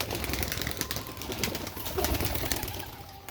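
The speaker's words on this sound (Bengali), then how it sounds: "দেখো পবন ভাইয়ের খুব সুন্দর সুন্দর কবুতর" Pet pigeons kept by a hobbyist, with steady soft cooing and fluttering amid a constant broadband background noise, close and continuous without distinct breaks.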